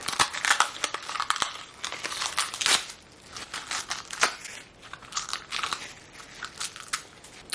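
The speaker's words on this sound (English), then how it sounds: "Let's pull out all this plastic." Plastic film being peeled and pulled off handmade glow-in-the-dark resin ghost decorations, a continuous close crinkling and crackling with sharp snaps, loud and busy throughout without talk.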